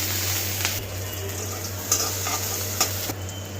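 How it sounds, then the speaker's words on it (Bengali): Chopped onion sizzles steadily in oil left over from frying fish, a continuous close frying hiss with a few soft stirring scrapes and clinks and no talk. "মাছ ভাজা অবশিষ্ট তেলে দিয়ে দিচ্ছি পেঁয়াজ কুচি"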